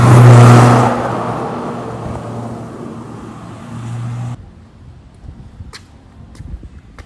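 A car at a Halloween party valet stand revs loudly up close and pulls away, the engine fading over a few seconds, followed by quiet ambience with a few soft clicks.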